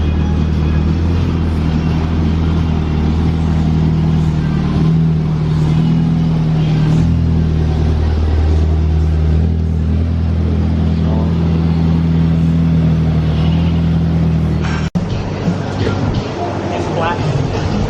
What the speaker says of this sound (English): Ooh, we have a C5 Corvette just ripping it.